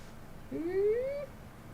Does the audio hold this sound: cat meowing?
yes